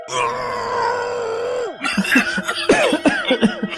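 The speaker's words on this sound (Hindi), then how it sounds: "इतनी खांसी क्यों आ रही है?" A voice groans in a long strained tone, then breaks into a run of harsh, rapid coughs up close.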